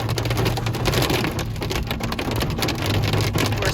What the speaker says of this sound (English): And now we have hail.